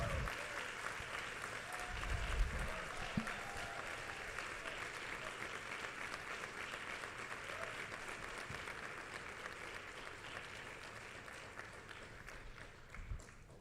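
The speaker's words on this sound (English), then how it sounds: "give him the best, biggest round of applause that we can please give" Sustained applause from a large, standing conference audience, a broad, even roar of many hands clapping that holds steady at a moderate distance, with faint voices now and then beneath it.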